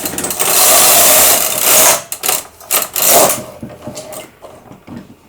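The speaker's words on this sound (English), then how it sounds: "I'm going to knit the second row." An SK280 knitting machine carriage is pushed across to knit a row, giving a loud sustained mechanical rush for about two seconds, then several shorter clattering bursts and faint rattles.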